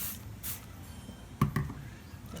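A spray bottle of natural household cleaner gives a couple of quick, soft, hissing squirts, fairly faint against a quiet room background.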